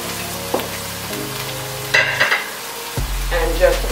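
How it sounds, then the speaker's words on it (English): Food caramelizing in a pan sizzles steadily while a wooden spoon stirs and rolls it around, with a few louder scraping bursts near the end. "We'll take our wooden spoon and just kind of roll it around. And already, you could smell that caramelizing just doing its job."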